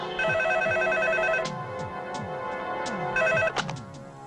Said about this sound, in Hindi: डैडी, टोनी का फोन है।